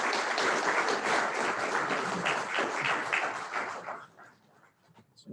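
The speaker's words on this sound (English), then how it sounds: "let's give him a round of applause." An audience claps to welcome a speaker at a Bible fellowship gathering, loud dense applause that holds steady, then tapers off into scattered final claps and quiet.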